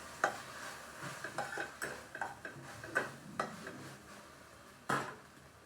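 Fenugreek greens (methi bhaji) being stirred in a pan over medium heat, with soft scraping and clinking of a spoon against the pan in irregular strokes, fairly quiet and close, with no talking.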